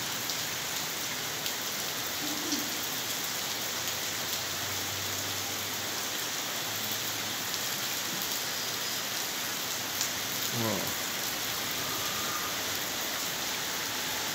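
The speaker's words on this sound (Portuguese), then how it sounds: "E a chuva caindo aí." Steady rain falls on surfaces during a storm in Ribeira do Pombal, a dense, even hiss that holds for the whole stretch, with a faint low rumble briefly under it.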